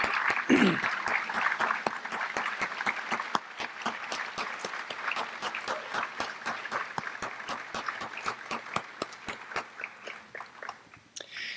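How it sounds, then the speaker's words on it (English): Audience clapping for scholarship and award recipients at a high school senior awards ceremony, steady and moderately loud, with sharp individual claps standing out as it slowly tapers over about eleven seconds. "Please join me in a round of applause in recognition of our scholarship and award recipients"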